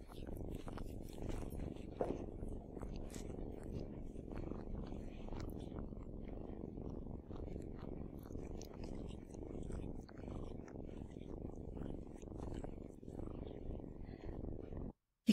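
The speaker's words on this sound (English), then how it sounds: "this video of Piper and her kittens. And you can almost feel the intimateness of this scene where there's a lot of purring going on" Piper the cat and her kittens purr softly and continuously up close, a low steady rumble with faint rustling throughout.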